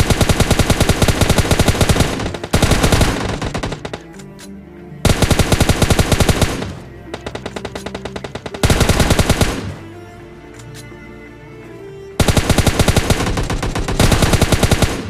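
Gunfire in the PUBG Mobile Lite video game comes in loud, close bursts of rapid automatic shots lasting a couple of seconds each, separated by quieter stretches of scattered single shots and game noise.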